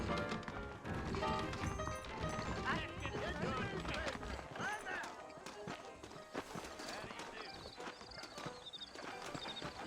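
Horse hooves in the video game Red Dead Redemption clip-clop in quick, uneven steps, fairly quiet, with occasional thuds and voices mixed in.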